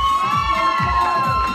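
Audience at a bikini model competition cheering and shouting loudly, a dense close crowd roar with whoops rising and falling over about a second and a half.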